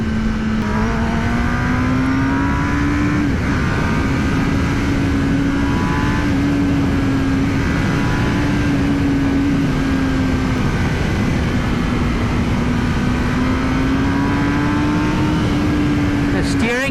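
A 2017 Kawasaki Ninja ZX-10R sport motorcycle engine drones loud and steady at close range in heavy traffic, its pitch rising and dipping slightly with a brief throttle change.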